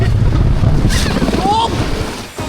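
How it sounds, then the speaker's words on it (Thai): An old man shoves an inflatable rafting boat down into a river at Changbai Mountain in sub-zero winter air, a steady close rush of water and wind noise with shouting voices over it. "คุณลุงก็ผลักเรือลงมาแบบนี้เลย"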